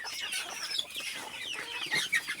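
Desi chickens and tiny chicks clucking and peeping on a poultry farm, a busy overlapping chorus of high chirps and short clucks, close and steady throughout.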